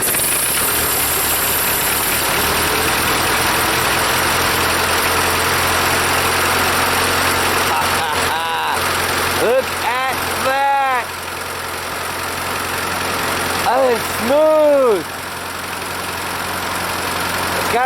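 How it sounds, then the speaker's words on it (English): A Ford 8N tractor engine idles steadily, its long-neglected valve gear clattering for the whole stretch, while voices talk excitedly over it in the second half. "got some valve clatter, probably because it hasn't had oil flowing through it in years"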